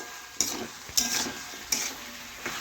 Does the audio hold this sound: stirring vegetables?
yes